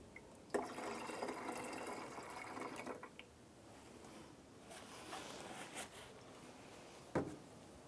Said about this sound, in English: We are currently low on coolant right there, so we're going to go ahead and add a little bit